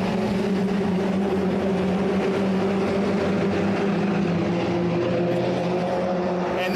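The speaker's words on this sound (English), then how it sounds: "We'll pause for the start here of this F1600 race." F1600 race cars at the start of a race at Road Atlanta, a continuous loud drone of many engines blending together with steady tonal whine, heard from a distance without talk.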